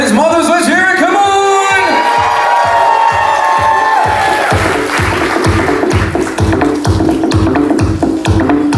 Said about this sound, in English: a huge round of applause to our groom and his mothers. Let's hear it, come on!